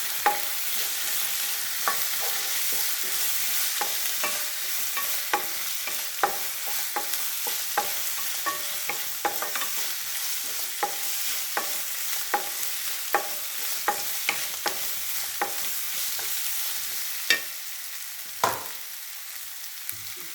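Soya chunks and potato masala sauté in a hot pan, a continuous close sizzle broken by frequent sharp spatula clicks and scrapes throughout.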